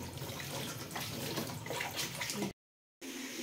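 Dishes are washed under running tap water in a steady, close splashing stream that cuts off abruptly, then resumes after a short silence.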